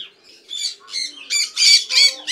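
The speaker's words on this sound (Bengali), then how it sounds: "আরও কিছু টিয়া পাখি আছে, এরাও মোটামুটি নেস্টিং করতেছে।" Pet parakeets squawking harshly in an aviary during nesting season, a rapid series of about six loud, close, rhythmic squawks growing stronger toward the end.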